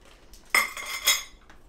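A spoon clinks against the metal pot of a Ninja Foodi while cornstarch is stirred into beef stew, two bright scraping clinks close by with no talk.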